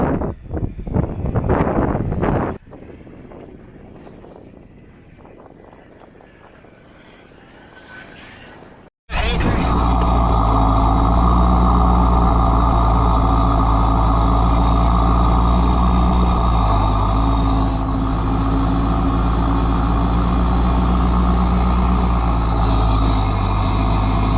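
Off-road pickup trucks, a Ford Ranger 3.2, Mitsubishi L200 and Nissan Pathfinder, on rough terrain: an engine revs and strains up close with wind buffeting, drops to a lower rumble, then surges back to a loud, sustained roar.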